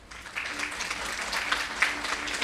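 An audience claps at a peace event after a speech ends, the applause steady and dense for a couple of seconds, fairly close and unbroken, with no one speaking over it.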